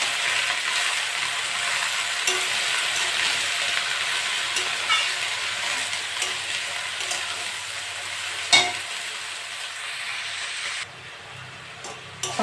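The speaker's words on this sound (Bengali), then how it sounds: "এবার আলু আর শাকটা দিয়ে দেবো। শাকটা নেড়ে চেড়ে দেবো।" Kulekhara greens and potatoes stir-fried with prawns in a pan: a steady, close sizzle with soft stirring scrapes, one sharp knock near the end, then a quieter simmer.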